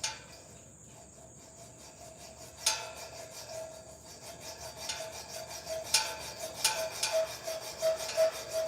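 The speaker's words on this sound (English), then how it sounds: "My hacksaw dull." A dull hacksaw rasps through a workpiece in slow, uneven strokes, a quiet scratchy grind with a few sharper scrapes standing out near the end.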